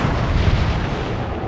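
Naval gunfire from a British cruiser in the World of Warships video game, a loud, dense rumbling boom that fills the whole moment without pause or talk.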